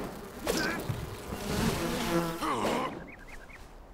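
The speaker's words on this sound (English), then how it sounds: "Wow, the bees follow you." Bees in the video game Enshrouded buzz around the player in several close, wavering swells of insect drone over a few seconds, fading out near the end.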